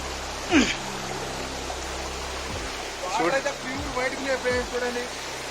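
A small waterfall running fuller after recent rain makes a steady broadband rush of flowing water, heard close, with occasional voices and other sounds over it.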